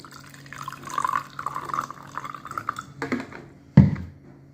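Kangen water is poured into a glass, a soft, uneven trickling and splashing that rises and falls, ending in a sharp clunk as the glass or container is set down.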